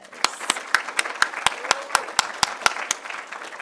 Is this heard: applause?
yes